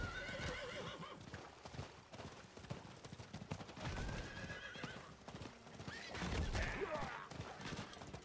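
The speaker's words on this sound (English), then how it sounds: "the horse is ready." Horse hooves clip-clop steadily while a horse neighs and whinnies loudly near the end, over busy Diablo 4 game sound effects and faint background noise.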